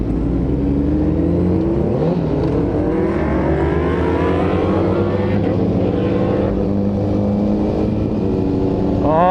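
Loud superbike engines, including a BMW S1000, Kawasaki ZX10R and Aprilia RSV4, drone and rev close by in Mumbai traffic, with rising and falling pitch sweeps over a continuous engine roar.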